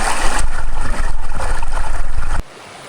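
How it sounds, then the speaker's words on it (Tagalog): River water flowing during an offroad trip in General Nakar, Quezon, a loud close rushing wash that cuts off abruptly near the end. "Ito na yung ilog."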